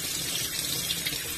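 Water falling in a corner, a loud, continuous splashing rush like a running tap, steady throughout with no voices.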